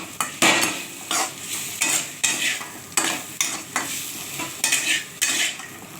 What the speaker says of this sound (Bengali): তো আমি এটা একটুখানি নুন হলুদ একটু দিয়ে দেবো তাড়াতাড়ি ভাজা হওয়ার জন্য,